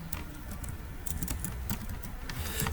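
Typing on a computer keyboard, a quick, close stream of soft key taps over a steady background hum.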